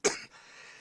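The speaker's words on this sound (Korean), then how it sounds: "이 방송을 하면서 조금씩 이렇게 기침을 하는 것은 여러분들께서 양해를 해주세요" A single short cough from a man broadcasting while recovering from a cold, one sharp burst up close followed by quiet room tone.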